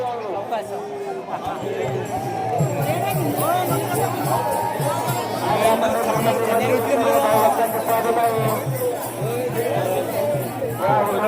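Huge crowd of pilgrims (warkaris) moving through Pandharpur during the nagar pradakshina procession, a dense, continuous babble of many voices and shuffling feet, close and loud throughout, with people calling out nearby.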